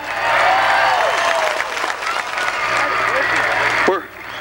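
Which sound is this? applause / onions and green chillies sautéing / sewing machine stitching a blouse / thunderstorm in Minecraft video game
applause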